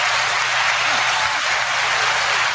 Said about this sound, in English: Let's give you guys a round of applause.